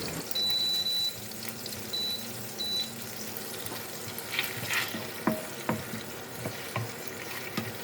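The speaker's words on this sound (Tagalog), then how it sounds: "Halu-haluin lang po siya." Onions and garlic frying in a pan give a low, steady sizzle, with a few faint scrapes of stirring partway through and a thin tone early on.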